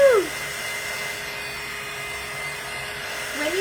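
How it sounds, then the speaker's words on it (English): A handheld hair dryer blows steadily at close range, a continuous airy whir with a faint high whine that holds level for a few seconds, with a louder, shifting burst at the start and end as it is moved or switched. "When you have this dryer, it doesn't take long to dry at all, actually."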